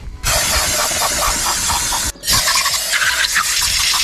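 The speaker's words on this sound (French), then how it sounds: "un petit coup de soufflette" A steady, loud rush of compressed air from a blow gun on a Golf V engine during reassembly, broken by one short pause before the blast resumes.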